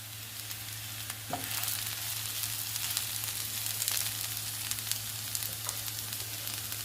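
Pieces of ivy gourd fry in a pan, a soft, steady sizzle with a low background hum and a few faint stirring scrapes throughout.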